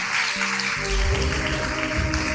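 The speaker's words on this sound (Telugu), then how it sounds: "చప్పట్లు కొట్టే బిగ్గరగా ప్రభు నామాన్ని" A church congregation claps loudly and steadily, a dense wash of applause sustained over held keyboard music during a worship service.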